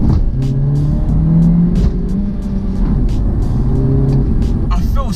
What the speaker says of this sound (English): we have got the rev match feature on this car as well